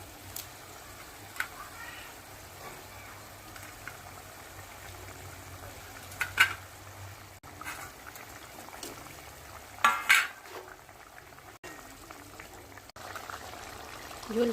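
Fish goes into a boiling curry, which bubbles and sizzles softly while a utensil clinks and scrapes now and then. The sound is faint and close.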